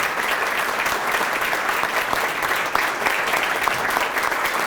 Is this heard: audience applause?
yes